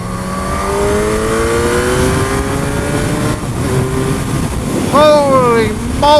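A 2007 Suzuki GSX-R1000 K7 sportbike revving and accelerating through rising, stepping engine tones, loud and close with wind rush, then sharp upward revs near the end.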